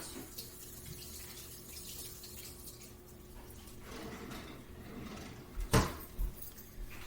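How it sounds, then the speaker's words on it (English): Hands are washed under a running kitchen sink tap after grating scone dough, heard as a faint steady trickle of water with a few louder splashes and knocks near the end, and no talking. "I'm going to put mine in the sink and wash my hands."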